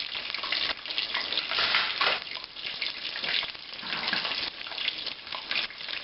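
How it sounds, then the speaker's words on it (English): Chicken egg rolls deep-frying in oil, a continuous bubbling crackle that swells and dips in waves, with watery gurgling textures and no voices. "Just keep cooking these till you have them all fried and you have egg rolls ready for everybody."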